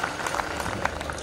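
An audience at a Hindi poetry gathering claps briefly, a short burst of scattered hand claps from a seated crowd, fairly close and moderate in volume.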